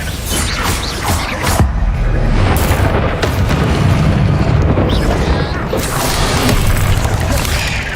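Confringo fire spell bursts cast in the video game Hogwarts Legacy, loud continuous booming blasts layered with mechanical crackle and rumble, with game combat noise throughout.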